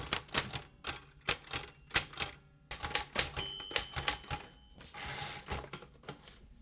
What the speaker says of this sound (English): This is the old Royal typewriter that you saw Ben Urich use in the DareDevil story